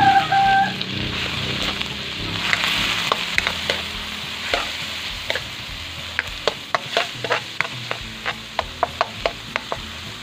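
Ground pork frying with garlic and onion in a pan, a steady loud sizzle with scraping stirs and a run of sharp utensil taps toward the end, close up and without talk.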